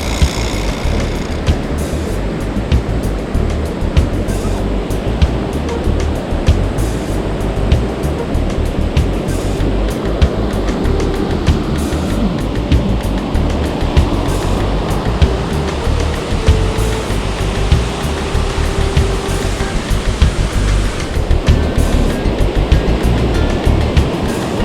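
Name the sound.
waterfall rushing water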